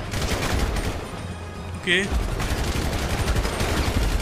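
Gunfire in GTA 5 during a chase with police, sharp shots popping close and loud, with someone talking briefly over them.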